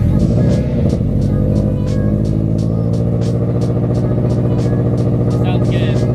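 A supercharged Scion FR-S engine idling steadily after a misfire repair, a loud continuous rumble with an even, regular pulse and no stumbling, heard close up.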